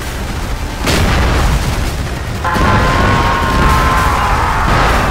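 CBU-105 cluster bombs detonate during a large night battle in a war video game, with two sharp booms a couple of seconds apart over a continuous loud, dense rumble of blasts.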